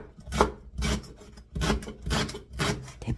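A knife slices through a thick stalk of Korean green onion for braised cutlassfish, making five rasping, scraping strokes at an uneven pace, close and fairly loud with no talk.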